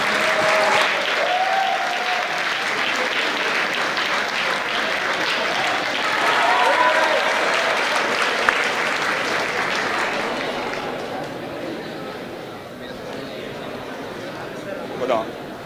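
Loud, sustained applause fills a hall at a university campus festival gala as an award winner heads up to the stage, with voices and cheers mixed into the clapping; it swells midway and thins toward the end.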